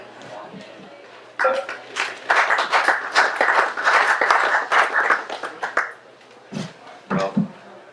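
Audience applause at a live reading of short stories, a burst of dense clapping that builds quickly, holds for several seconds and then thins to a few scattered claps.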